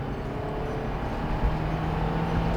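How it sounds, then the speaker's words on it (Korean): An SM5 New Impression LE base-model sedan accelerates, its engine a steady, moderately loud hum and road drone heard from inside the cabin, with no talking. "일단 가속을 한번 해보겠습니다."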